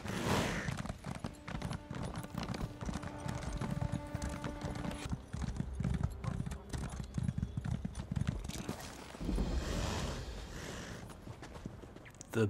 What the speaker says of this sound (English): Let me get out my wonderful horse.